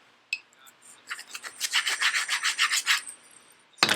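A hand sander or grinder works across terrain posts to remove drill-through bits, making rapid rhythmic rasping strokes that build in the middle, close and fairly loud, then stop before a sharp final scrape.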